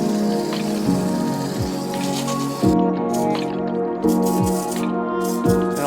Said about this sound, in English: So now we're just gonna rinse it off.